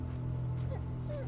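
A dog whimpers in A Plague Tale: Innocence, a couple of short, thin high whines rising over a steady low game drone, faint and brief.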